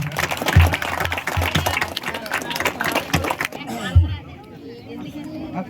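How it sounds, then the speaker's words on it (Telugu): A crowd at a Sankranti prize ceremony in Pedana claps in a rolling burst that lasts a few seconds, mixed with chatter and a voice over a microphone, and then fades out as talk continues. "క్లాప్స్ కొట్టండి."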